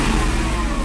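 A Mercedes V8 engine just fitted with a new throttle body, revving loud and steady, a dense continuous roar up close with no talk over it.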